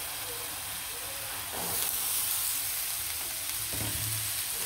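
Chickpeas frying in hot oil with spices, a steady loud sizzle and hiss that swells as they are stirred, with occasional scraping from the stirring and no talking.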